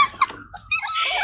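Puppies give short, close whimpering yips and squeals in quick bursts with brief gaps between them.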